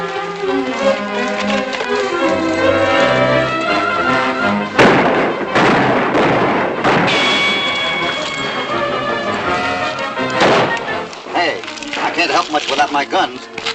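Gunshots ring out in a Hopalong Cassidy western film, sharp cracks scattered among dramatic orchestral music, with one loud blast near the middle and a burst of rapid shots toward the end.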